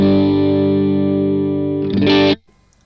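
An electric guitar played through a Vox clean amp model on a Line 6 POD Go rings out as a sustained clean chord, then a brief brighter strum before cutting off sharply, close and loud.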